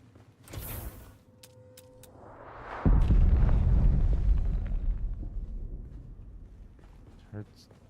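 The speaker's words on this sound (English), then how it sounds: "Heard something explode." An explosion in the PC game Dune: Awakening, a loud broadband boom that swells suddenly and rumbles on for several seconds before fading, with earlier mechanical creaks and a voice talking over it.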